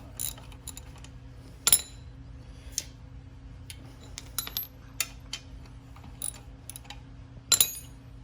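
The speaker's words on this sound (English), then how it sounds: "That's why I grab my 12 mil wrench." A 12 mm wrench working on the muffler bolts of a Venom Motorsports x22GT 250cc motorcycle: scattered metallic clicks and clinks, with a few sharper ringing taps, close and alone over a faint hum.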